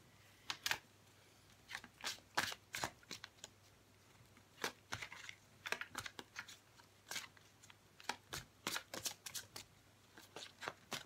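Tarot cards are shuffled for a reading in quick, crisp riffles and slaps, a series of close, sharp bursts spread irregularly through a quiet room, with no talking.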